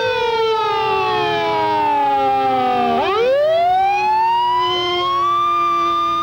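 Wailing siren of a Louisville police car leading the 23rd Annual Germantown Baseball Parade, loud and close, its rising and falling tone sweeping down and then climbing back up over steady traffic rumble.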